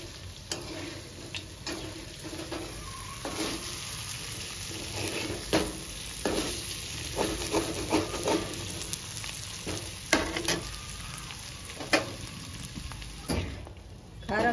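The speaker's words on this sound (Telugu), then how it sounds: "కారం వేసుకున్న తర్వాత 5 నిమిషాలు మీడియం ఫ్లేమ్లో పెట్టుకొని మంచిగా ఫ్రై చేసుకోవాలండి" Chicken frying with chili masala powder in a pan over a medium flame: a steady close sizzle with scattered crackles and occasional stirring clicks and scrapes, faint voices now and then.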